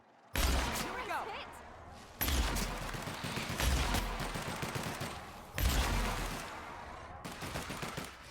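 Gunfire in the game Prophecy Girls comes as loud, close bursts of rapid shots, three separate volleys each starting with a sharp crack and trailing into a dense rattle before cutting off.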